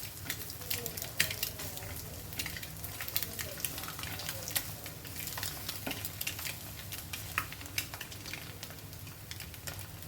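An egg fries on a tawa over a low flame, giving a faint, steady crackle of fine sizzling pops close by, with occasional light spatula scrapes and no talking.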